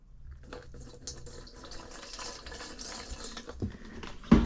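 Fresh gasoline pours into the tank of a 2006 Kawasaki KX250F motorcycle, a soft, steady liquid trickle and gurgle with a few light knocks near the end.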